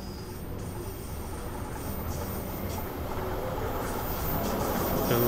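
Grinding of train wheels on rails on a London Underground Bakerloo Line train in the game Train Sim World 4: continuous rumbling rail noise with a faint high squeal, growing slightly louder as the train slows, with no voices.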